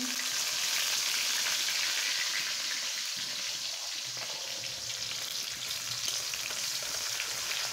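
Chopped onions fry in a pan with a steady, bright sizzle that keeps a constant level throughout, close and unbroken, with no talking over it.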